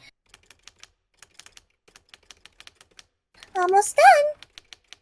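Rapid keyboard typing in a noir visual novel game mod, light irregular clicks in quick bursts, then a short spoken phrase breaks in near the end.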